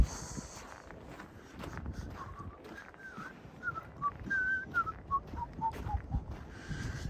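Someone whistles a wavering, uneven tune with cold lips while walking outdoors through downtown Regina in February; the thin melody wanders up and down over a steady crunch of footsteps and street noise.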